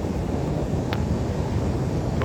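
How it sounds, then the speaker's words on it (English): Steady whooshing rush of air from the air conditioner vents inside a white Hyundai Accent diesel car, a constant close broadband hiss with no talking. "The wind's coming very strong and cold. So the AC works just fine."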